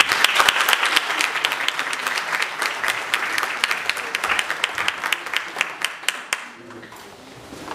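Loud, sustained applause from an audience at a legislative assembly forum, dense clapping that holds steady for several seconds before thinning out and fading near the end.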